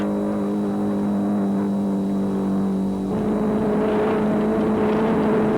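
Rally car racing on a desert stage in the 1995 Dubai rally, engine droning steadily near and loud, with a gear change partway through that drops the pitch before it climbs again.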